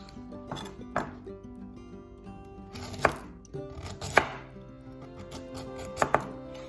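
A knife slices down through carrot pieces on a chopping board, giving a series of irregular crisp chops and knocks against the wood with quiet pauses between them.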